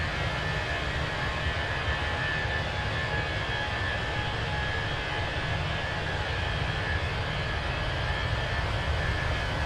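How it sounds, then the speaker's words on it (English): Airbus A321 jet engines run in flight, heard from the cabin as a steady, loud, unbroken roar with a faint high whine that holds level throughout. "Aircraft's running well."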